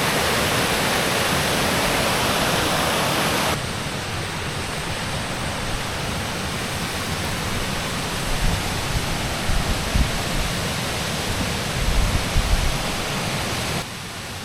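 Gujanggun Falls, an artificial waterfall at Gangcheonsan in Sunchang, pours in a steady, loud broadband rush throughout, with slight shifts in level and no voices.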